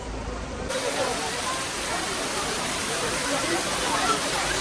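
A waterfall at Rock Garden in Darjeeling gives a steady, dense rush of falling water that holds at an even level throughout, close and continuous.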